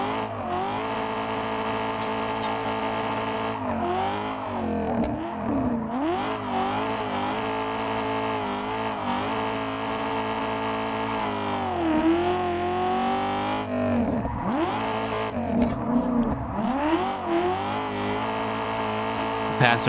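A drift car in the Assetto Corsa racing game slides around the Daggerfall drift track, its engine revving hard and wailing up and down through the gears, with tire squeal mixed in under a continuous loud drone.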